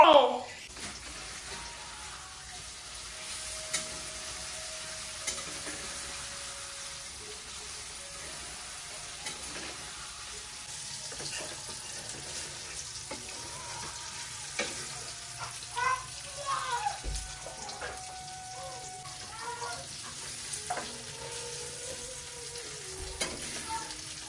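Paneer pieces fry and sizzle steadily in a pan, a continuous low crackle with occasional stirring knocks, close but quiet, while voices talk faintly in the background.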